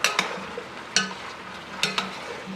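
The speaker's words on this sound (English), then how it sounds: "Just gonna give that a quick stir, just to pick up some of the color from the bottom" A spoon stirs a pot of breadfruit simmered in coconut stewed chicken, giving a few sharp scrapes against the pot about a second apart over a low, steady simmer.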